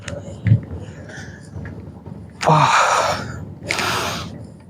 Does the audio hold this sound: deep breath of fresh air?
yes